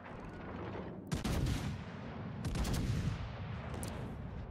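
Naval gunfire from a warship in a World of Warships-style naval battle game: two loud, sharp salvo blasts about a second and a half apart, each followed by rolling rumble over a steady background of engine hum.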